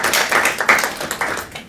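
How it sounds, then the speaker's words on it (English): Brief applause from an audience for presenters, a quick round of clapping at moderate loudness that carries evenly for under two seconds. "I'd like to give a quick round of applause for our presenters"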